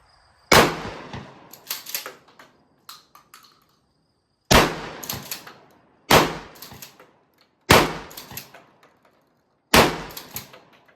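Remington 870 12 gauge Police Magnum shotgun with a folding stock fired at a range, five loud booming shots spaced a couple of seconds apart, each followed by the clack of the pump action cycling.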